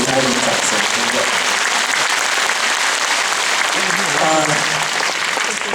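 An audience at a Taipei concert hall breaks into loud, sustained applause, a thick wash of many hands filling the whole stretch, with a few voices and faint tones poking through.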